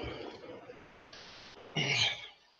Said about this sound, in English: Little cough coming in.